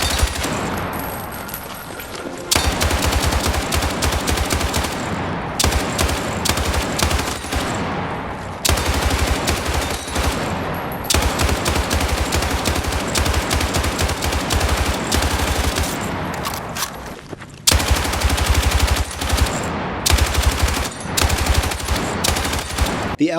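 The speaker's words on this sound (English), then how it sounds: "Let's take the L110 into the firing range and test it out." The L110 automatic weapon fires in long sustained bursts at a Battlefield 6 firing range in a video game, loud and close, with brief pauses between strings of rapid gunfire.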